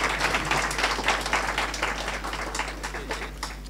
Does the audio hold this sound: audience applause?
yes